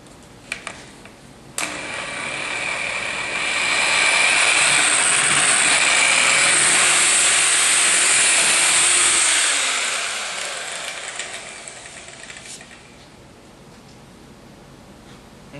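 A polishing bonnet buffs a sanded acrylic seam, its steady whirring drone swelling louder in the middle as it presses in, then easing off before stopping, with no talking.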